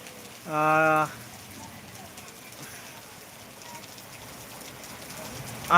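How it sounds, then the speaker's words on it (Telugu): Steady rain hisses continuously in the background, broken by a short loud tonal voice burst near the start and another at the very end. "భారీ వర్షం కురుస్తూనే ఉంది"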